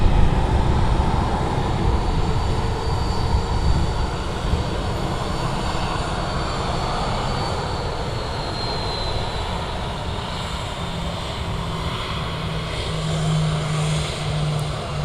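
A Scandinavian airliner at Manchester Airport: a steady, loud engine roar with deep rumble holds for the whole stretch, broadband and continuous, with no voices.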